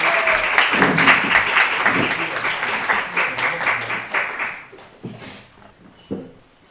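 Audience at a digital salon talk breaking into applause, dense clapping that swells early then thins out to a few scattered claps near the end.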